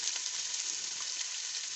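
Carrots frying in a pot of hot cooking oil, giving a steady, dense, loud sizzle that continues without pause and with no talking.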